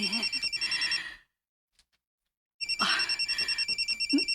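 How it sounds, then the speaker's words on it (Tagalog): Telephone ringing for an incoming call, a bright repeating electronic trill in two bursts separated by about a second and a half of silence, fairly close and with no talk over it. "Nanawag si Alejandro. Alejandro, nanawag man ka"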